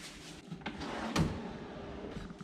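A hotel room drawer in a Vivanta by Taj room in Navi Mumbai slides open with a soft scrape and a sharper knock midway, followed by faint rattling, close and without talk.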